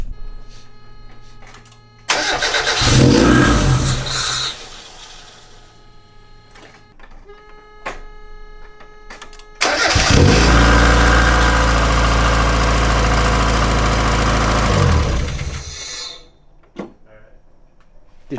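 A car engine, just back from timing belt work, cranks and briefly catches, then starts again and runs loud and steady at close range for several seconds before shutting off.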